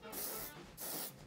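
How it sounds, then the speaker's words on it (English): Hairspray is sprayed over set hair in two short, close bursts of aerosol hiss with a brief pause between them. "Give it a nice spray all over, comb through."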